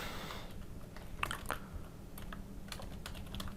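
HTML code being typed on a computer keyboard: quiet, irregular key taps in short clusters, close up over a faint background hum.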